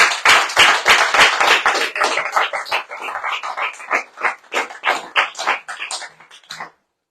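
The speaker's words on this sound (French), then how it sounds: "mais on les applaudit quand même." Radio show audience in a bistro setting clapping, loud and near, with a rapid uneven patter of hand claps that thins out toward the end and stops abruptly.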